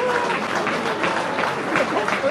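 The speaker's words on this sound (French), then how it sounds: "On peut les applaudir." Steady clapping from a group, a continuous crackling patter of hands throughout, moderately loud.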